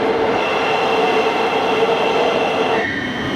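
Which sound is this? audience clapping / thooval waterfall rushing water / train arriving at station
train arriving at station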